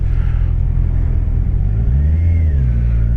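A 2020–2021 Kawasaki Ninja 1000 SX motorcycle pulls away smoothly, its engine rumble rising steadily as it accelerates, loud and continuous under steady wind noise with no talking.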